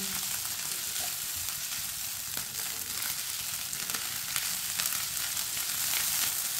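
Leftover rice fries in a pan with a dense, steady sizzle and hiss, close and unbroken, with faint occasional scrapes of stirring.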